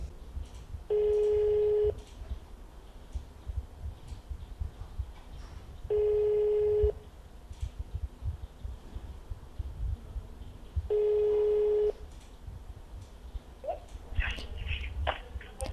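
A telephone call dialed to a heritage protection office: three identical ringback tones, each about a second long, repeat at regular five-second intervals over a faint background hum, with a few soft clicks near the end.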